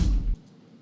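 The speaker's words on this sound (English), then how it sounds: "as well as this hydraulic hit right here," A cinematic hydraulic hit lands as a heavy, booming low thump for about a third of a second, then drops off into a faint, airy tail.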